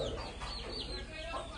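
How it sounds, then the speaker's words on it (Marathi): Village hens in a Konkan yard clucking in a busy, overlapping cackle amid noisy ambience, fairly near but moderately quiet. "कोंबड्या"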